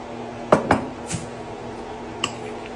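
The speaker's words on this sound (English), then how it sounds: "Stir this up nice and slow." Dish and cutlery clinks from a spoon working tuna fish sandwich filling in a bowl: a few sharp knocks, two close together then one later, fairly close over a quiet room.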